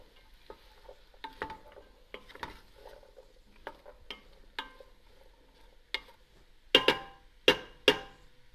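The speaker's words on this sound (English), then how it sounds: "I just wanted onions to cook longer because I wanted that caramelized flavor. So I'm just going to let these cook." Onions cook in a pot for beef stew, with faint soft sizzling and a few scattered stirring clicks, then several sharper utensil taps against the pot near the end.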